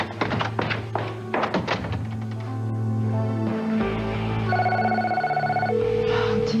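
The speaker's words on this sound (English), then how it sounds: "Oh, TC, please answer the phone." A telephone in a soap opera scene rings in repeated electronic tones after a run of knocking thuds, fairly loud and close over a low hum.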